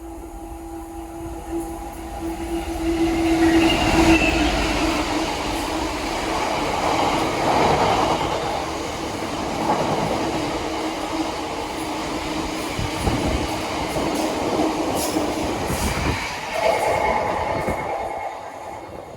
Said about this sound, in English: Well, we got to see a couple of freight trains today.